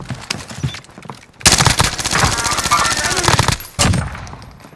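Sustained automatic gunfire in Call of Duty: Modern Warfare, loud and rapid bursts that run for several seconds with a brief gap, preceded by quieter game noise and a voice.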